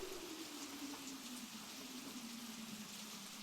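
Rain patters steadily on a small umbrella, a faint continuous hiss of drops with a low tone gliding slowly downward beneath it, no voices.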